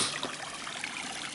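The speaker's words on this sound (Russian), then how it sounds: "Вся эта канализация льется в речку." Untreated sewage pours straight into the Seraya river in Aleksandrov, a steady close splashing trickle of running water with no voices.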